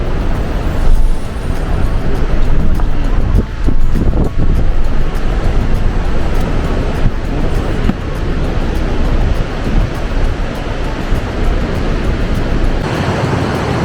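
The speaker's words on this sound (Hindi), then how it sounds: "इस तरह का काली नदी का फॉल है, भयंकर रूप, भयंकर गर्जना" The Kali river waterfall near Dharchula, on the route to Adi Kailash before Chiyalekh, roars continuously and loudly, a dense unbroken rush of churning water with wind buffeting the microphone.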